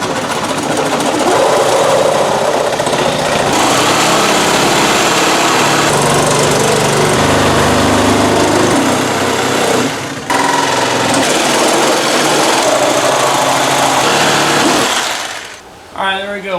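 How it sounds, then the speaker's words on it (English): A power cutting tool slices a section out of a car's inner fender to make room for a turbo. It gives a loud, harsh, continuous buzzing grind that pauses briefly midway and stops near the end. "we're going to kind of connect the dots here and cut this section out so the turbo sits down where we want it to"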